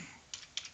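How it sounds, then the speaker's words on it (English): A few keys tapped on a computer keyboard while searching online for an ultrasonic sensor data sheet, three soft clustered bursts of clicks close to the mic, no talking. "Why don't I type in"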